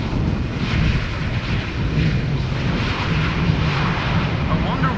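A twenty-year-old airliner passes at Schiphol Airport with a deep, rumbling engine roar at moderate distance, steady throughout, while someone talks over it.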